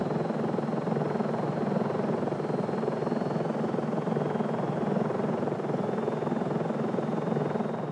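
A helicopter flies over steep, rugged bighorn sheep terrain near Yosemite. Its rotor gives a steady, continuous drone at moderate distance, with no voices.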